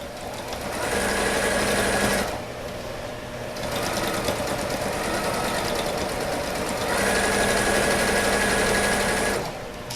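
A domestic sewing machine runs in bursts of fast stitching with a short backstitch pause between them, the needle set fully to the right; the motor's loud, steady whirring rattle is heard close up with no talk.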